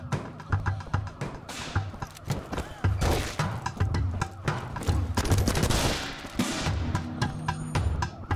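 Rapid bursts of gunfire shoot at the player in the video game Ape Out, dense volleys of sharp cracks and thuds stacked over a pounding drum-heavy soundtrack, loud and nearly continuous throughout.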